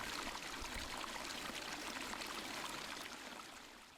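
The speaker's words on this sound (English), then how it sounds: "only to emerge as boiling streams that cascade down the mountain" A boiling glacial meltwater stream cascading down Mount St Helens, heard as a dense, continuous rush of flowing water close by, steady and broadband throughout.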